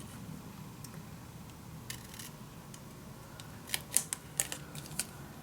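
Scissors cutting a paper folio piece, a short run of crisp snips and clicks close by, clustered near the end after a quiet stretch with a few faint ticks.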